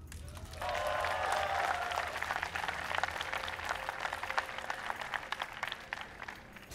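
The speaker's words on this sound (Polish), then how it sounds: "Proszę o ogromne oklaski dla Blastefela." Applause from an audience at a StarCraft WCS Poland Nationals esports event swells quickly into steady, dense clapping from a large crowd, holding strong before gradually thinning out.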